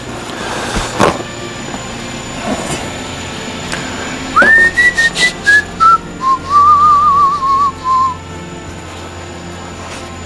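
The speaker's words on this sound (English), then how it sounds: "I shouldn't whistle or hum tunes" A person whistles a short wavering tune close by, a few sliding notes followed by a longer warbling phrase, heard alone against a quiet room.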